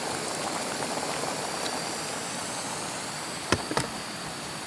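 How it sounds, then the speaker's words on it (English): Steady bubbling roil of water boiling on a camp stove, close and continuous, with a couple of brief clinks near the end, outdoors on a hiking trail by Lytle Creek, California. "it's boiling already."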